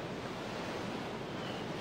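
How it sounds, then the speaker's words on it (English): Beach water splashing in Persona 3 Portable, a steady broad wash of surf-like noise filling the whole moment without pause or speech. "I'm gonna splash more water on you."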